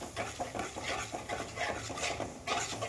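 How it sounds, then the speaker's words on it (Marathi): A spoon stirs vegetable curry with added curd in a pan over high heat, giving quick rhythmic scraping and swishing strokes that repeat steadily and close up. "दही टाकून घेतले फास्ट फास्ट हलवून घेणार आहे फुल गॅसवर"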